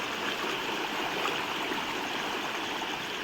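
A rain-swollen river in the Konkan rushes past in a steady, broadband roar, loud and close, with no pauses or voices over the continuous churning flow.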